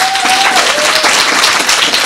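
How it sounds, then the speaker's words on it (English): Audience applause at a book launch event in Durban, a loud, dense burst of clapping filling the short stretch, with a faint tone sliding underneath. "give a round of applause"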